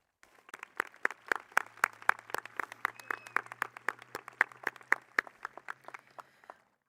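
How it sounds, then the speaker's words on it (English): A modest crowd at a high school commencement claps in a brisk, sparse patter of distinct hand claps that tapers off after several seconds. "Please give yourselves a round of applause for all you do."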